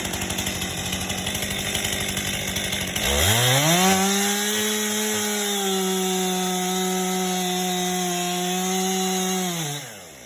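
A chainsaw bore-cuts into wood, its engine note dropping and steadying as the bar plunges through. The sound is loud and continuous, close up, then eases at the end.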